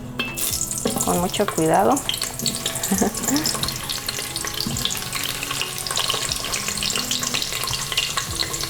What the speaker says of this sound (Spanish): Ya que la manteca está bien caliente, vamos a agregar la cebolla